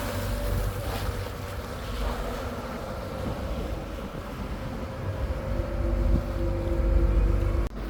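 A deep-sea fishing boat runs far from shore at night, its low engine drone steady beneath rushing wind and wash of waves against the hull, with no voices.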